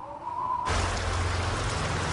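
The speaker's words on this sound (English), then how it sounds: "nothing can stop the rain from flooding the concrete skeleton of this office tower" Rain falls through an abandoned concrete office tower with its windows gone, starting abruptly as a dense, steady hiss of drops and splashes on concrete that fills the space without any voices.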